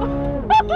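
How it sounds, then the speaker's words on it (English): The flat-plane crank V8 of a 2023 Chevrolet Corvette Z06 revs high, a steady droning tone that jumps to a sharp, piercing whine, surging twice in quick succession. "Oh, it revs so high!"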